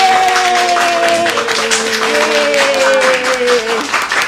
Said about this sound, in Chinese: 我们用最热烈的掌声欢迎我们今天的非凡明星